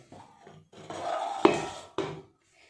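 Rice-flour dough kneaded by hand for dudh puli pitha, a few separate squishing and rubbing pushes with short pauses between them, plus one sharp knock against the bowl, close and fairly quiet.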